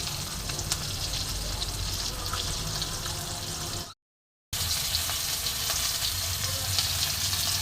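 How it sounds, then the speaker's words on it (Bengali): Jiol fish fries lightly in oil in a pan with a steady, continuous sizzle. A brief silent gap breaks it midway, then the frying resumes. "এক পিঠ উল্টে দিলাম, হালকা করে ভাজছি।"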